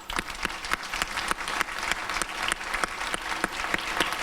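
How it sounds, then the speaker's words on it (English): An audience claps for performers at a Sikh cultural show, a full, sustained round of applause with some sharper individual claps standing out near the front, steady from start to finish. "we just give a massive round of applause to everybody here who has absolutely put on an absolute brilliant performance"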